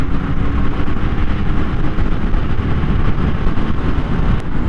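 A 2025 Honda XR650L dual-sport motorcycle runs at speed on a test ride, its engine a loud, steady drone blended with wind rush and road noise throughout.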